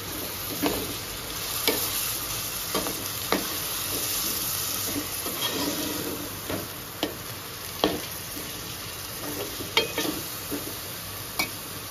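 Tomatoes and fenugreek leaves frying for a methi mutton curry: a steady sizzle in the pan with spoon stirring knocks recurring every second or so, close and alone without speech.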